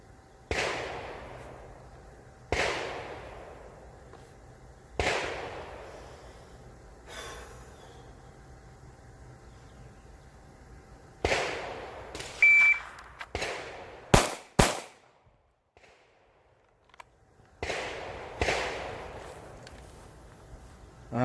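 Pistol shots from a live-fire drill at 25 yards on an outdoor range, loud sharp reports arriving in spaced pairs and singles with decaying echo tails, a quick double burst near the end, no talking.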